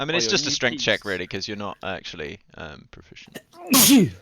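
A single loud, close sneeze bursts out right after a stretch of conversation among tabletop game players, sharp and breathy at the end of the talk.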